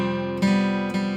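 Acoustic guitar strumming a chord pattern, with dense ringing chords and two fresh strums about half a second apart, all close and clear with no voices.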